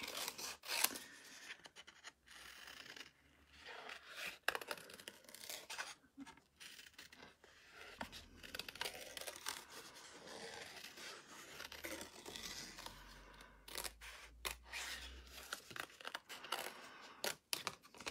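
Scissors fussy cutting around the edges of paper pieces for a handmade craft card: quiet, close snipping and rustling of paper in irregular bursts, faint throughout with no talking.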